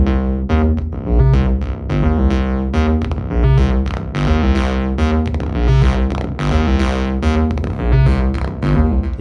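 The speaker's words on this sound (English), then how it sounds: "there's definitely some analog distortion that you can get out of this desk" Music plays through the overdriven analog circuitry of a Tangent 1602 mixing desk, the tones gritty and saturated with a rough, crunchy distortion that stays loud throughout.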